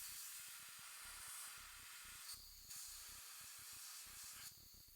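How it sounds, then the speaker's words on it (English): An airbrush sprays AK black paint onto the carapace of a Tyranid miniature, giving a steady close hiss that runs nearly the whole time with two short breaks where the trigger eases off. "So this is just AK black through the airbrush."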